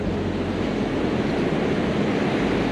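Ocean waves wash up on a sand beach at a former inlet, a steady loud broadband surf roar with wind mixed in, unbroken and without talk.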